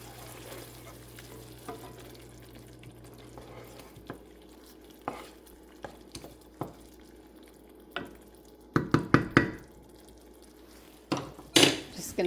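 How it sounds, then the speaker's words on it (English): Ground beef and vegetables in beef bourguignon sauce sautéing in a pan: a soft, steady sizzle with scattered scrapes and clatters of stirring that grow louder and more frequent toward the end, heard up close. "Just gonna let this saute a few minutes, simmer a few minutes"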